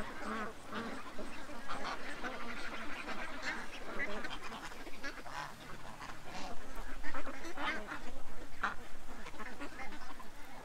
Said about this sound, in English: They're happy ducks.